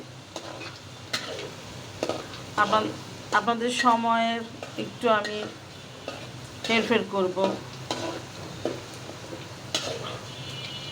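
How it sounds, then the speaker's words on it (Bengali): Garlic frying in a pan, a steady soft sizzle with occasional stirring sounds, mostly under a person talking throughout. "রসুনটা লাল না হওয়া পর্যন্ত আমরা রসুনটা একটু ভাজতে থাকবো।"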